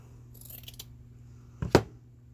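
Scissors snip through a quilted fabric pocket being trimmed for a handmade journal folio, a couple of close, crisp cuts after a quiet stretch, heard alone.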